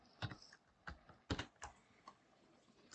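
Keystrokes on a computer keyboard while entering a matrix multiplication formula in an Excel spreadsheet, a few quick clustered taps with short pauses, close and alone.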